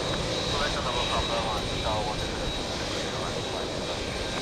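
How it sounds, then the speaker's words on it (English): An Etihad Boeing 787 Dreamliner jet at JFK airport produces a steady broadband roar with a thin high whine, fairly loud and continuous, while radio-style chatter briefly sits underneath. "let's do it again, this time with a 787 Dreamliner Etihad from Abu Dhabi"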